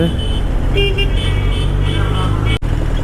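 Heavy road traffic near the Ukkadam flyover in Coimbatore, with car horns tooting in short bursts over a constant loud roar of engines and passing vehicles under a rider's Kawasaki Z900.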